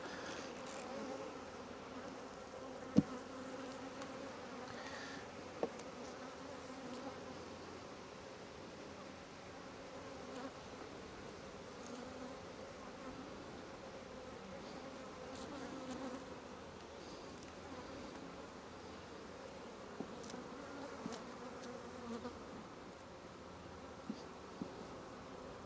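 Honey bees from hive 6 buzz as a steady, dense hum throughout a hive inspection, with occasional faint clicks and knocks of handling and no talk.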